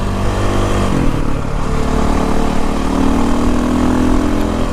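KTM 525 dual sport motorcycle engine while riding at road speed, a loud close droning hum that dips briefly then steadies and climbs slightly in pitch.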